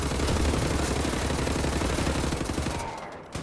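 Enemy shotgun fire in Wolfenstein: The New Order, heard as a dense, loud barrage of rapid blasts that runs almost unbroken before thinning and dropping away near the end.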